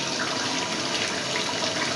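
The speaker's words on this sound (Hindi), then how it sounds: "अब मैं इसमें पानी डाल दूँगी।" Water poured into a pot of biryani rice, a steady, fairly close splashing gush that runs unbroken for a couple of seconds with no talking.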